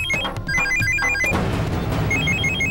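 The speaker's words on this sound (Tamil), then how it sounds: "சேட்டா ஃபோன் அடிக்குது." A telephone rings in a Tamil TV drama, a repeating electronic ringtone of short bright tones that continues clearly while background music swells underneath.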